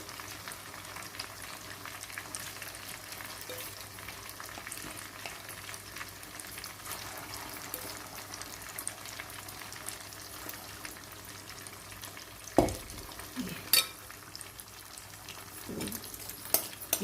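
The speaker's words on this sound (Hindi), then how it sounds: "बाकी चिकन भी आप तल लें इसी तरह से।" Chicken pieces for biryani fry in oil with a faint, steady crackle throughout. Near the end come a few louder clunks and stirring sounds, and no one speaks.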